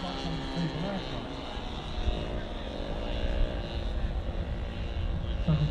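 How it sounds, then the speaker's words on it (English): Propeller-driven model aircraft flying at an outdoor air show, a steady engine drone with pitch that sweeps up and down as it manoeuvres, heard beneath someone talking. "Sounds like some Probuild aircraft."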